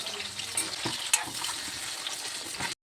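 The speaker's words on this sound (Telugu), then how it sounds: "ఇప్పుడు ఒక్కొక్కటిగా వేసుకుందాము పకోడీ" Marinated chicken pakoda pieces frying in hot oil, a steady close bubbling sizzle with a few sharper crackles and pops as pieces go in, continuous until it cuts off abruptly.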